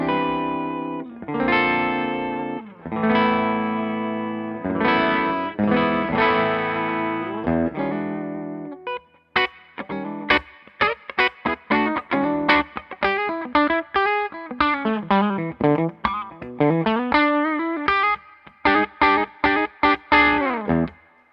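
Electric guitar played through a Majestic Overdrive pedal set for a pushed clean tone: sustained strummed chords for about eight seconds, then quick picked single notes and short bursts, with chorus-like shimmer and no voices.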